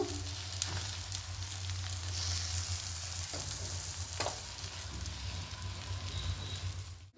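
A spatula works around rice-flour batter frying in an oiled pan for sorachakli, a continuous close sizzle with a few soft scrapes and taps, no voices.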